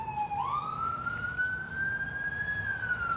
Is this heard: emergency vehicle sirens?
yes